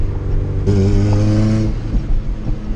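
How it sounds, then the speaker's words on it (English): A Honda car engine with an oil pressure problem revs hard as the gas is hit, a loud, close surge of steady tone held for about a second before dropping back to idle. "so if I hit the gas"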